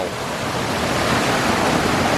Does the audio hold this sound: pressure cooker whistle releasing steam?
no